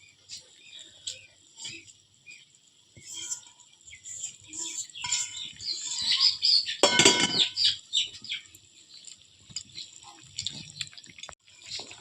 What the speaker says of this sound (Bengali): আরও কিছু পানি দিয়ে দিল